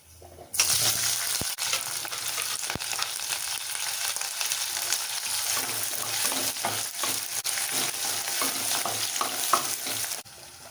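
Onions, green chillies and curry leaves sauté in hot oil for a vegetable salna, making a loud, steady close-up sizzle broken by stirring scrapes and clinks, with no one talking.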